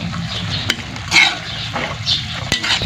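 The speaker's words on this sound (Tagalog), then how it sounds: "pwede na nating ilagay ang ating sili at ang ating hiniwang papaya. Ayan, haluin lang natin ng kaunti" Chili and sliced papaya are stirred into dinuguan in a pan: a continuous sizzle with scraping spoon strokes and occasional light clinks against the pan, close and fairly loud.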